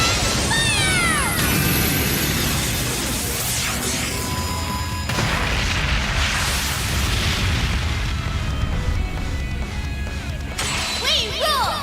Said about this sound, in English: Galactic cannon, fire!